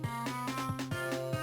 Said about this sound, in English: everyone was united in their hatred of this game's music